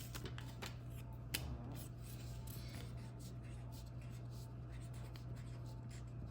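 Pen scratching on paper while writing inside a DIY sushi blind bag, a soft, faint scribbling close up with small rustles and a low steady hum beneath.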